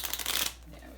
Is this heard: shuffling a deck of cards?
yes